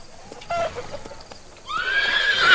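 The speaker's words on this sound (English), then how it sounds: "Horse." A horse whinnies alone, with a short nasal call followed by a loud, rising and trembling neigh that swells toward the end.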